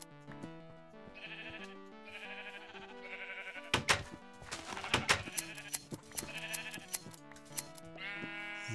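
Minecraft sheep bleat in several overlapping calls, loud and near, mixed with sharp clicking taps in the middle.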